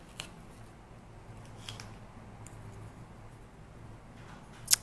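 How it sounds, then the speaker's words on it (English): Scissors snip off excess from a folded pop-can tape strip while making a homemade ruling pen, a few faint, sharp cuts spread over a quiet room, the last one louder and close. "So now I'm just cutting off some of the excess because I made the tape strip too long."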